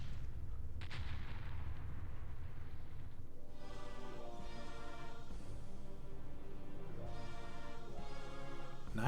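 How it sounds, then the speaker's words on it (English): Explosion sound effect on a Pinball FX3 table: a quiet burst followed by low rumbling blasts, mixed with tonal game sounds and backing music, with no speech. "Freaking explosion sound effect."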